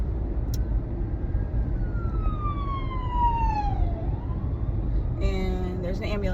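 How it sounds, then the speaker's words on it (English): An ambulance siren sweeps past outdoors, its wailing tone sliding steadily downward as it passes and fades, over constant road and traffic rumble, with a brief burst of other harmonic sound near the end. "there's an ambulance going by"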